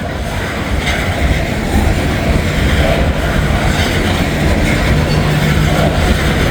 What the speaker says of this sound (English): This is definitely a loaded coal train.